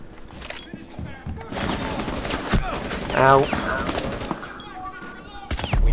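Rapid bursts of gunfire crackle in a Rainbow Six Siege match, loud and repeated, mixed with game effects while a player briefly cries out.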